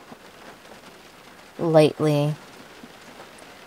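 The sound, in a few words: rain falling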